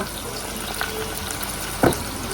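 Onions fry in a pan with a steady, moderate sizzling hiss, broken by one short clank of a utensil against the pan and no speech.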